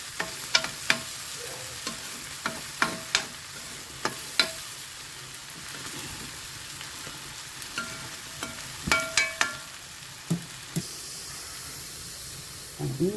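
Banana upperi frying in a pan is stirred with a utensil, giving repeated sharp clacks against the pan over a steady soft sizzle, close and fairly loud.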